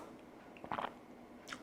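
Brief, close slurp of leftover Korean ramen noodles and broth: one short wet sucking burst in the middle, then a fainter second one, quiet and alone with no talking.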